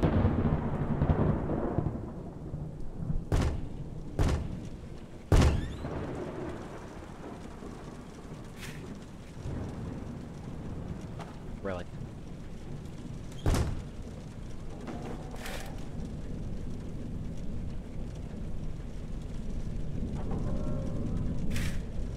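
An animatronic character leaves in Five Nights at Freddy's, an open-world fan game: several sharp, heavy thuds land at irregular intervals over a constant rumbling, rain-like ambience.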